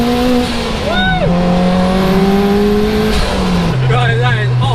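A turbocharged 414bhp Lotus drones loudly from inside the car, its engine note sweeping up and down as it revs and shifts, with turbo whine on top and a voice talking over it.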